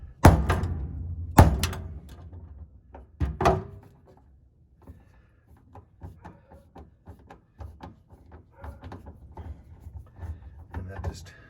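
Cordless impact wrench driving out Phillips screws on a Volvo 122S fuel tank, with loud sharp bursts of impact hammering early on, then quieter scattered clicks and handling knocks.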